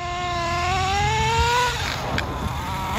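A nitro-powered Losi 8ight RC truggy engine whines loudly on a racing track, its pitch rising smoothly as it accelerates, then breaking off into rougher, fading engine noise.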